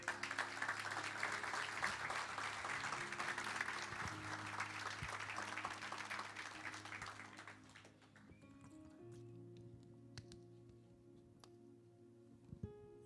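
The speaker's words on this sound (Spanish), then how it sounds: "Dale un aplauso al Señor." A church congregation applauds in a dense, continuous burst for about eight seconds, then the clapping stops and a sustained keyboard or organ tone carries on alone.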